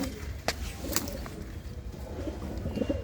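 Pigeons at a Punjabi pigeon seller's place give soft, low cooing that rises and falls for a few seconds, mixed with faint background bustle and a couple of brief higher calls.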